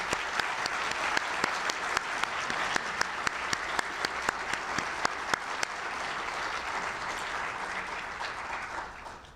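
An awards-celebration audience gives sustained applause for student musicians, a dense roar of many hands with sharper individual claps standing out, tapering off at the end.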